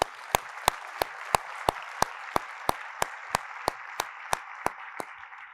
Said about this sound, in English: and would you please give them a big round of applause.